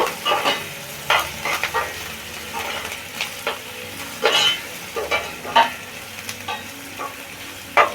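Onions frying in a pan for bun dosa, with a steady sizzle broken by repeated scraping stirs of a spatula, close and fairly loud, no voices.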